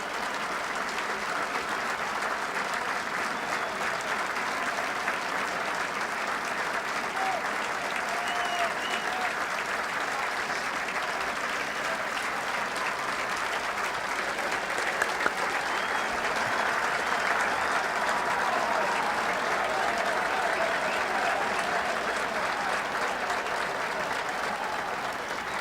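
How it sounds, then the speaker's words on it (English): A golf gallery at the 1986 Masters applauds Kite and Ballesteros on the final round, a broad, steady wash of clapping from a large crowd at some distance, sustained without a break and with a faint murmur beneath. "And listen to the applause for Kite and for Ballesteros"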